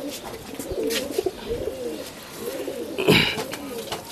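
Active domestic pigeons in a loft cooing in soft, repeated rolling phrases, close by, with a few sharper bird calls and some background voices.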